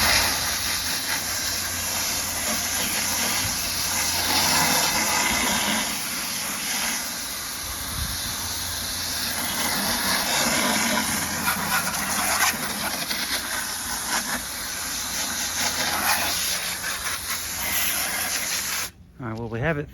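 A pressurized water spray rinsing debris out of a pulled evaporator coil, a loud continuous close hiss and splatter that runs steadily and cuts off near the end, with a voice faintly beneath it.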